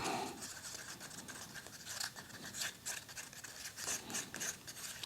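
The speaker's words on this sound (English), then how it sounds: "scraping the sides, getting this stuff mixed up" A cup of Alumilite Clear Slow casting resin being mixed and its sides scraped, giving soft continuous scratchy rubbing with brief louder strokes, close and fairly quiet, no talking.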